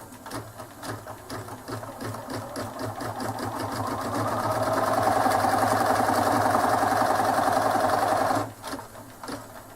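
An embroidery sewing machine stitches a colour section through fabric held in a hoop, a steady rapid needle clatter that runs close and continuous, building louder midway before stopping near the end.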